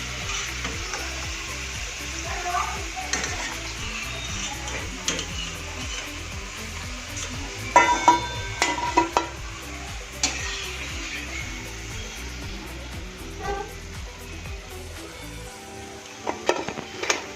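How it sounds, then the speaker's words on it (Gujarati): Papad pieces deep-fry in hot oil with a continuous, moderate crackling sizzle, close by, joined by occasional clicks and knocks of a utensil before the sound thins out near the end. "આ રીતે બધા જ પીસને આપણે તળી દઈશું."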